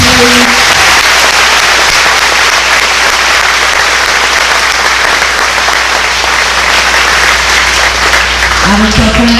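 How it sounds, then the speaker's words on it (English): Loud, sustained applause for veterans at a school Veterans Day tribute, a large crowd clapping in a dense unbroken roar with cheering voices mixed in, close and continuous throughout. "let's give our veterans one more round of applause, please"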